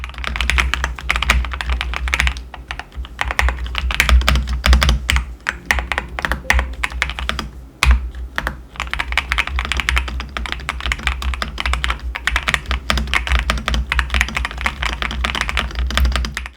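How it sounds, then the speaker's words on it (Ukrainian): Steady, continuous typing on a HATOR Skyfall 80 Wireless mechanical keyboard, with dense, crisp key clicks running without pause throughout and no voices. "Ось можете прослухати приємний тайпінг."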